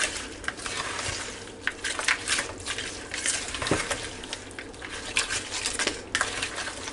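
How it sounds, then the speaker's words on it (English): Green beans, drained and combined with the other casserole ingredients, being stirred together in a bowl, giving irregular soft scraping and wet clinking sounds at close range with no talking. "And drain your green beans. And just stir that all together."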